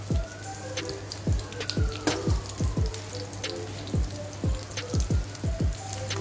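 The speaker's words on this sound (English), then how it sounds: "Leave it to fry on each side for about 4 to 5 minutes or until golden brown" Salmon and potato patties frying in a pan, a steady spatter of crackling oil pops and sizzles repeating close up, over a constant low hum and with no talk.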